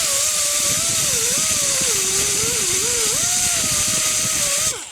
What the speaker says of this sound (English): I could grind that off on the bottom if I wanted.